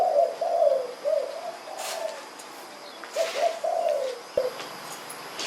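Several pet doves coo in soft, low, rounded phrases, each call repeated in short bursts with brief pauses between, heard close and clear, with light rustling in the background.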